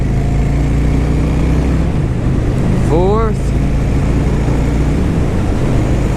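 A 2013 Honda Shadow 750 Phantom motorcycle runs with a steady, loud engine drone and wind rush while riding, with a brief rising note near the middle as gears change.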